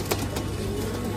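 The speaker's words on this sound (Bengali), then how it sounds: "সব পাকিস্তানি পায়রা এগুলো।" Pakistani Kamagar pigeons give a brief, soft coo or two nearby against a faint background hum, lasting only about a second.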